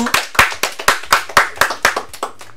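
A small group claps for an interviewee after a talk, about a dozen distinct, fairly loud hand claps in an uneven rhythm over a couple of seconds, close by and with no voices.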